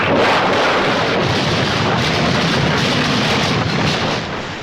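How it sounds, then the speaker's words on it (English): A ship crashes during a storm in a dramatized scene: a loud, sustained roaring rumble of noise like thunder and wreckage that lasts several seconds and fades slightly at the end. "At the height of the storm, a terrible crash rocked the ship."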